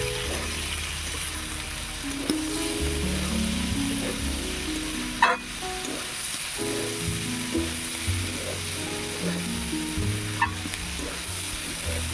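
Chopped potatoes frying in a pan for aloo posto, a steady sizzle with repeated scraping stirs of a spatula and a few sharp knocks against the pan, no talking.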